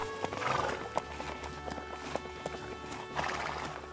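Horses of colonial-era riders heading toward Philadelphia clip-clop along in a steady, close rhythm of hoofbeats, with a horse whinnying briefly over the moving hooves.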